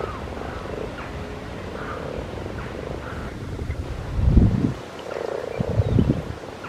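Many frogs croak steadily from a garden pond full of spawn. The calls repeat close by in overlapping bursts, grow louder partway through, and rise over a soft wind rumble.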